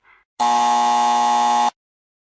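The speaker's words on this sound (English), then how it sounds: "To answer, they press any button on their phone and we'll hear a buzzer." A phone-triggered quiz buzzer sounds once, loud and close: a flat, harsh electronic tone lasting over a second after a brief faint blip, then silence.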